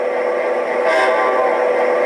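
An Atlas Amtrak P42 Genesis model locomotive sounds a single horn toot, a loud steady chord held for about two seconds with nothing else around it.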